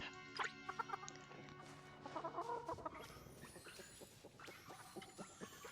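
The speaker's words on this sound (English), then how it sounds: "What a cute chicken." A chicken in the farming video game Palia clucks in short bursts over a quiet background, soft and close.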